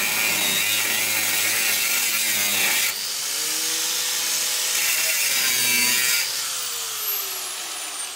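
A saw cuts through the rear crossmember of a Land Rover Defender 110, working from underneath the vehicle. Steady, close rasping strokes continue for several seconds with brief changes in pitch.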